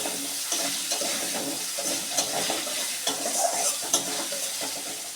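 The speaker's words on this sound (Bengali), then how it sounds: "ওই ভাজা তেলের মধ্যে আমি ভেজে নিচ্ছি" Potato and pumpkin fritters frying in hot oil, a steady crackling sizzle with scattered pops and light stirring scrapes running throughout, close and moderately loud, with no voices.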